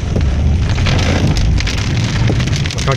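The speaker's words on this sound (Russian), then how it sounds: "Просто дождик. Дождик, молнии, гром." Heavy rain pours during a thunderstorm near the Volga, drumming steadily and loudly on surfaces as a dense, continuous roar, with no speech.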